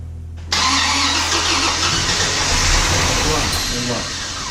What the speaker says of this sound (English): It runs. Right off the bat, it runs.